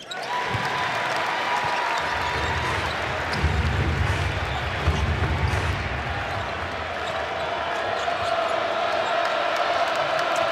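Basketball arena crowd at a Vanderbilt versus Missouri college game cheering loudly and steadily, with a swell of noise midway, sneaker squeaks and ball bounces mixed under the roar.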